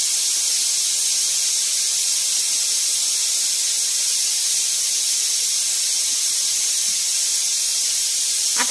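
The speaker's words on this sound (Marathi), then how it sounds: "तू काय डाळ शिट्या मारताय का नाही कुकर?" Steady, loud hissing of steam from a pressure cooker cooking dal, a continuous broadband rush with no clear whistle blast, running alone for several seconds.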